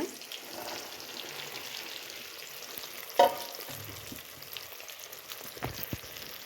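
Okra (bhindi) frying with softened tomatoes, ginger and spices in a pan gives a soft, steady sizzle with faint crackles and a single louder clink of the spoon partway through. No one talks.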